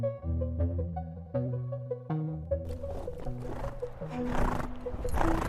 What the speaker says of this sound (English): Horse means ghoda.